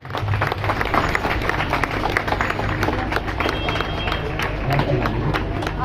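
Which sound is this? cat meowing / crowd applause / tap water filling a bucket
crowd applause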